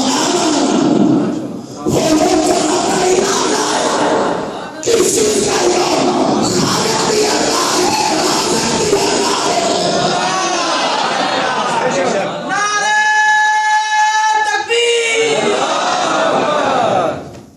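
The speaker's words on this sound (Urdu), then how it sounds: "خوب نعرے لگائیے" A large gathering in a mosque chants religious slogans, a loud, roaring mass of voices rising in waves, broken by amplified speech and a few sustained tonal calls.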